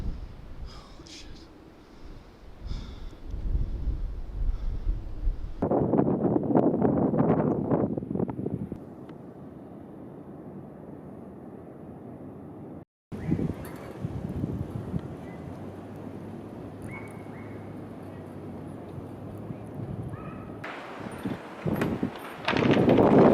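Strong wind gusts roar past the microphone near a forest fire behind a house in Hudson's Hope, British Columbia, swelling and dropping in loud bursts with brief lulls, while people speak at times.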